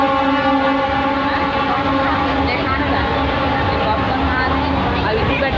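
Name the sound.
train moving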